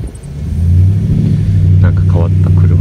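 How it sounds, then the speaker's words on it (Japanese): A car passes on a street, a deep engine rumble that swells and holds steady for a few seconds, fairly loud and close, with a voice speaking over it. "なんか変わった車が通っていってますね"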